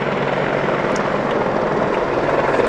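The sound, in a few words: AH-64E Apache Guardian attack helicopter flying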